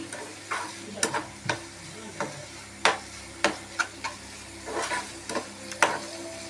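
A spatula clacks repeatedly against a pan, irregular and close, as squid masala is stirred and fried over a low, steady sizzle.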